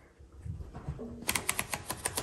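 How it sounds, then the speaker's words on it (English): Sharp keystrokes of a 1938 Royal Model O manual typewriter arrive in a quick, fairly even run after a quieter start with faint background noise, each clack crisp and close. "let's go ahead and load some paper and do a typing demo."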